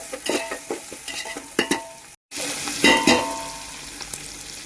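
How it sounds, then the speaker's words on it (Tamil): Onions and green chillies sauté in a pan for chicken biryani, crackling and sizzling while a utensil scrapes and stirs in quick strokes, with a brief moment of silence midway. "போட்டதும் நல்லா வதக்கி விட்டுடலாம்."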